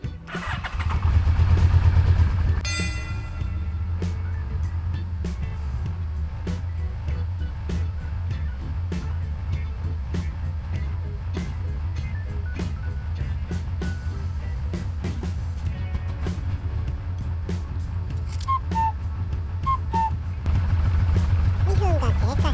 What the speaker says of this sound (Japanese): それではエンジンをかけてみます。